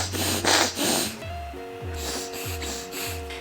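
Congested, runny-nose breathing comes close and loud: airy hissing sniffs first, then a rhythmic series of wet, nasal snorting breaths repeating about every half second.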